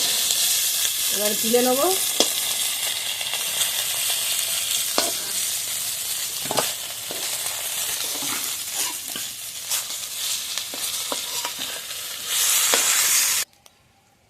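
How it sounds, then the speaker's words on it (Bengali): Fish frying in hot oil for a village-style fish curry, a steady close sizzle and crackle with scattered pops and stirring clatter, a voice speaking briefly, then cutting to silence near the end. "তো মাছগুলো সব ভালোভাবে ভেজে নিয়েছি"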